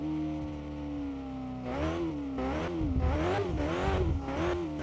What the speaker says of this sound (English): Keeping my engine RPMs up a little bit.